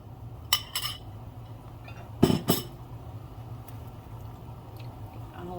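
Chopped celery tipped into a mixing bowl while making corn relish: two clusters of crisp clinking and scraping knocks against the bowl, close by, between stretches of quiet low hum, no speech.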